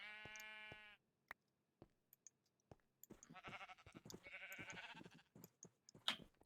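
Blocky video-game sheep bleat in a wool farm build: a sustained nasal bleat, then sparse clicks and taps, followed by a cluster of overlapping bleats with sharp clicking and one bright high chirp near the end.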